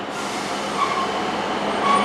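Class 153 diesel unit 153370 arriving at Paignton station, a steady close rumble of wheels on rail with brief faint squeals, continuous and loud throughout.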